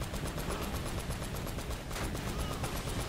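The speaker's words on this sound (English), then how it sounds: "It's like a Michael Bay film with all these explosions." Rapid gunfire and explosions from the video game Uncharted: Drake's Fortune crackle in a dense, continuous burst of repeated shots, loud and close throughout with no talking.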